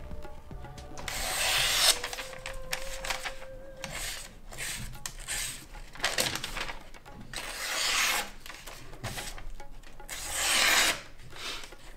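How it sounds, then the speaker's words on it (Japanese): A freshly sharpened kitchen knife test-cuts sheets of newspaper: several loud, close rasping swipes of paper being sliced, with rustling between strokes and no speech. "はい、じゃあ今からまたさっきと同じように新聞を切ってみたいと思います。"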